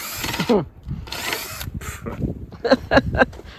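A battery-powered tool cuts through 3/8 rebar into two-foot lengths at a cabin site, whining in loud bursts of a few seconds apiece, with people talking nearby between the cuts.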